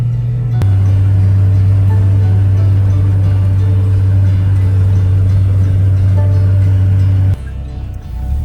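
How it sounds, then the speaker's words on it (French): A loud 4x4 off-road vehicle grinds along a mountain track, its heavy engine drone steady and close for about seven seconds before cutting off abruptly near the end. "on est dans le 4x4 le plus bruyant du monde"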